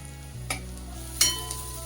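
Onion sautéing in a pan while greens are being cooked, a low steady sizzle broken by two sharp scraping stirs of a spoon against the pan.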